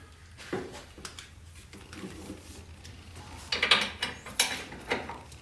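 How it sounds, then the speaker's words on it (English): Metal clicks and ratcheting scrapes of adjustable wrenches turning 13mm bolts while fitting doors on a Can-Am Commander side-by-side, irregular close knocks that bunch into a busier burst near the end. "Go ahead and grab a wrench or a pair of adjustables real fast."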